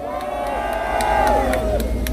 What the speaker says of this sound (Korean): 오늘도 격정을 쏟아내 주신 오린코리아 조영환 대표님께 여러분 큰 박수 한번 보내주십시오.